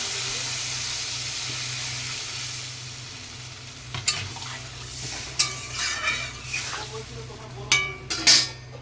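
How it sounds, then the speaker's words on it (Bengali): Pumpkin and hilsa fish curry being stir-fried in a pan, a steady low sizzle for several seconds before a spatula scrapes and knocks against the pan in irregular bursts, all close and alone. "আরও একটু কষিয়ে নেবো"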